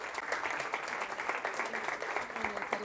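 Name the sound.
audience applause at conference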